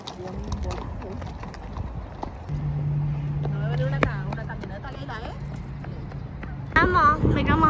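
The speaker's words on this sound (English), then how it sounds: "There's so many horses." Horses' hooves clip-clop along an outdoor trail as several horses pass, a steady rhythmic clatter close by, heard under people talking casually nearby.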